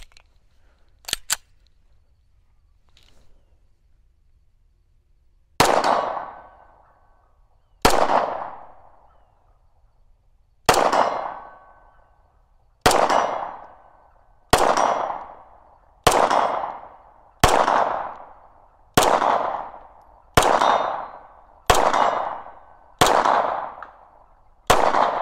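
Dan Wesson DWX 2011-style pistol fired at a steel target about 55 yards away: about eleven sharp, loud shots in a steady rhythm, each with a ringing decay, following a couple of faint clicks and near silence.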